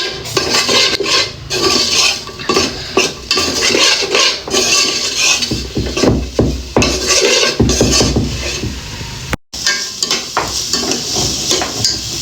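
A spoon stirs salt into white sauce pasta in a pan, giving a dense run of loud, close scraping and clattering against the metal for several seconds, with a brief break near the end.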